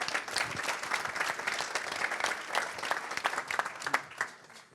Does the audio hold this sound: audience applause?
yes